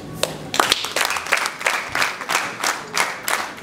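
A wedding crowd claps together, the separate hand strikes coming through distinctly in an uneven, fairly brisk rhythm that is loud and close, with no talking.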